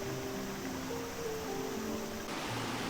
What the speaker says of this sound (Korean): 쏟아지는 폭포 소리를 들으며 한참을 물멍을 했어요